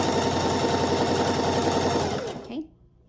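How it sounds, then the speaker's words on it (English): A sewing machine runs nonstop, stitching a channel down ten yards of tutu fabric, then slows and stops near the end, with a voice talking over the steady mechanical whir. "we're just gonna sew all the way down your 10 yards of fabric"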